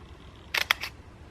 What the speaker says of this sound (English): you can hear the shutter.